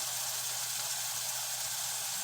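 Onions sizzle in a hot frying pan while open-face cheese steaks are cooked, a steady, close, even hiss with a faint low hum underneath and no talking.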